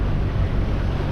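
Big sea waves and swell wash around a small sailing boat under engine off the coast between Weymouth and Poole, a loud, continuous rush of water mixed with heavy wind buffeting.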